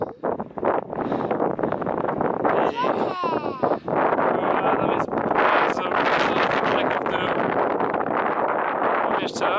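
Strong wind gusts across an open canyon top in Canyonlands and buffets the microphone with a loud, rough roar that surges and dips throughout, while voices are mixed in.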